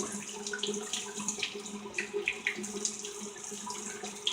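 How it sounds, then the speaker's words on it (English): Water runs quietly from a tap with soft, irregular splashes as hands scoop and spill it, close by in a small room. "put some water on it"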